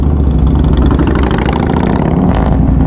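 A V-twin naked street bike engine runs loud and close, a steady low throbbing idle with a slight rise in revs toward the end, heard alone.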